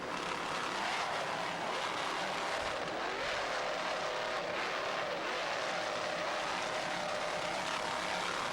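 A steady, dense engine roar from Airborne, an M-class offshore powerboat racing at Key West in 1994, sustained throughout without a break.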